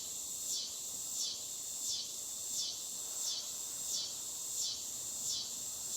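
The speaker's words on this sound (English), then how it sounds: "And the cicadas really want to help too." Cicadas shrill steadily outdoors in a pulsing, high-pitched drone that swells and fades in a regular rhythm, moderately loud and continuous with no voices.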